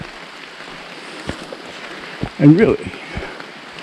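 Steady rain falls on the Long Trail during a southbound thru-hike, a soft continuous hiss of drops on the surroundings, with a voice talking briefly over it.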